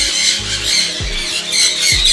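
Conure parrots, pineapple and green conures in a breeding aviary, give harsh repeated squawks over a busy background of other birds, with a few louder calls standing out.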